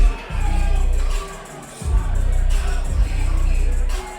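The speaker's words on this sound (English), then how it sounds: "You can hear the applause for David Hernandez out of Straight Blast Gym Buford." A big crowd applauds and cheers for a Muay Thai fighter being introduced at a Muay Thai and kickboxing event, the noisy swells rising and falling in several loud bursts.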